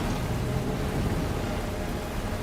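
Storm rain and wind in Death Stranding 2, in a rugged Australian landscape: a continuous broad roar of heavy rainfall and gusting wind, steady and enveloping, with no voices.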